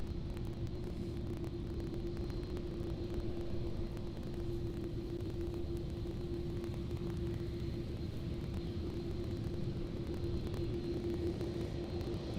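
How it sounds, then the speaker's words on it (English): Airbus A330 airliner departing Amsterdam Airport, a steady low engine roar with a constant droning hum, continuous and without talk. "And this A330 is going to be going to Toronto as"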